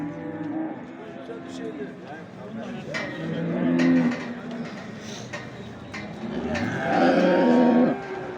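Cattle at a busy livestock market in Çorum, Turkey, moo loudly several times, with murmuring voices and crowd noise underneath throughout.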